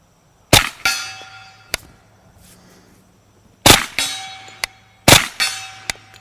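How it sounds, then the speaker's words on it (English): A Kriss Vector submachine gun fires three sharp, loud shots outdoors at a 50-yard target, spaced a few seconds apart. Each crack decays quickly and is followed by fainter metallic pings and clicks. "I think I'm gonna try a couple of shots at 50 yards"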